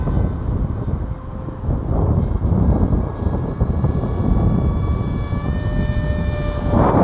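Mini SkyHunter RC model airplane flying overhead, a continuous buzzing electric motor whine shifting in pitch as it passes, with wind buffeting the microphone throughout.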